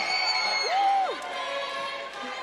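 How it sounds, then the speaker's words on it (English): A crowd at a youth volunteering celebration cheers and whoops for the photography team, a short loud burst of mixed voices with one rising shout standing out before it settles into a lower murmur. "Can we have a big cheer for the photography team?"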